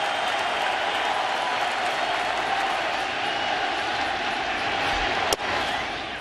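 A baseball stadium crowd roars and applauds steadily for Escobar during a postseason game, a dense, loud wall of cheering that never lets up, with one sharp crack near the end.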